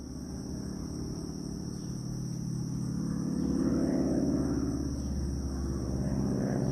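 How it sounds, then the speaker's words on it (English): A vintage warbird airplane flies over in a strafing-style pass, its steady low engine rumble swelling toward the middle and holding fairly close, with no talk over it. "Warbird."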